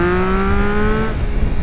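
Yamaha MT-09 motorcycle (2022) accelerating hard, a loud close engine whine rising steadily in pitch for about a second before the drone cuts back to a rougher rumble.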